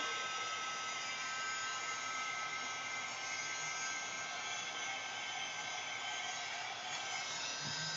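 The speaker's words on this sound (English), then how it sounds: "if you hold your heat gun close to your gesso," A heat gun blows steadily close to a mixed media journal page, drying gouache and gesso, its even, loud airy whoosh continuing unbroken and alone throughout.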